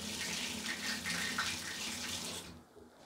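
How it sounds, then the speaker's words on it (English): Water runs steadily from taps in an empty flat, a continuous broadband splashing rush into the drains that holds for about two and a half seconds, then cuts off and leaves a quiet room. "just run a little bit of water on all the water outlets"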